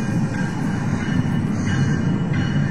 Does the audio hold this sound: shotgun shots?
no